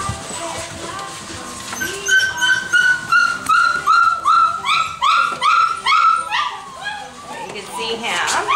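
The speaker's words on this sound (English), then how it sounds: "This is Silver Collar Puppy." A puppy with a silver collar barks, yips and whimpers in a rapid run of high, closely spaced cries that rise through the middle of the clip, with a person's voice heard faintly at times.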